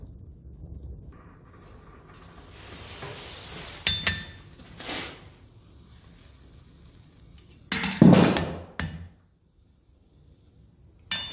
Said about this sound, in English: This is called forge welding